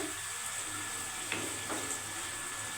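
Prawns frying in a little oil with sauce for chingri malaikari, a soft steady sizzle with a couple of brief stirring scrapes.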